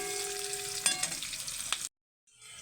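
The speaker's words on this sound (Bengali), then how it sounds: "পেঁয়াজটা ভালো করে ভাজা হয়ে গেছে" Chopped onions frying in a pan for a Bengali bottle gourd dish, a steady near sizzle with a few spoon scrapes that cuts off abruptly before a faint hiss returns.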